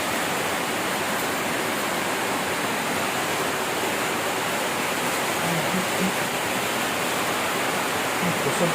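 Heavy rain pours down in a loud, dense, unbroken hiss throughout, with faint voices underneath.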